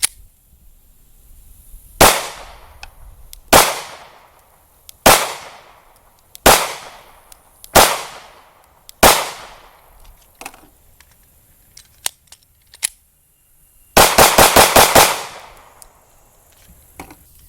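A Glock 43 pistol fires sharp, loud, close shots: six single rounds spaced roughly a second and a half apart, a few faint clicks, then a rapid burst of about seven quick shots near the end, with no talking.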